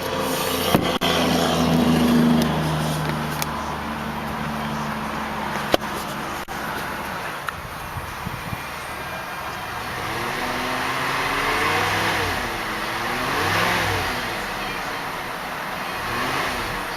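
A 2001 Cadillac STS with a Northstar V8 runs and revs, a smooth engine hum rising and falling through several swells, with a steady idle between them.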